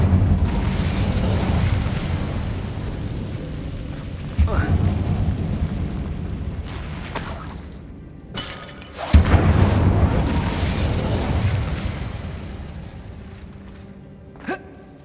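The Incendio fire spell cast in Hogwarts Legacy bursts with a loud whooshing boom and a rushing fiery roar, repeated twice. Game music and a voice are audible underneath.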